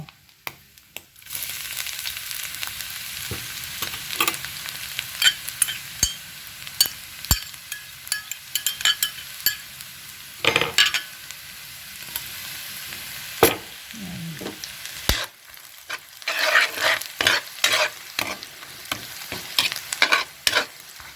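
Garlic fries in a pan alongside smoked fish tinapa, a sizzling crackle broken by frequent stirring clatters and scrapes of a utensil against the pan, uneven in loudness.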